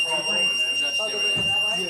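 A fire alarm sounds with steady, high-pitched electronic tones that run continuously. Voices talk excitedly over and under the alarm.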